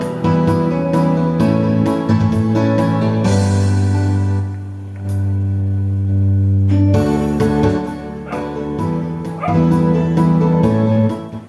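A song playing loud and continuous through a Joson Saturn Mini amplifier in Video OK mode, with sustained bass notes, full instrumentation and no talking over it.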